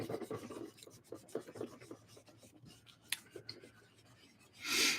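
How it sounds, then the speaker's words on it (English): An eraser rubs out a pencil sketch on paper in quick back-and-forth strokes, a close, soft, rhythmic scrubbing that slows and thins out toward the end. "I'm going to erase it a little bit."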